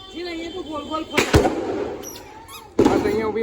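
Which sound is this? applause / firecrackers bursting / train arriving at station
firecrackers bursting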